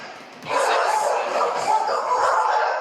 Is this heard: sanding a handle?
no